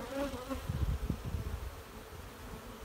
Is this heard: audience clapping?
no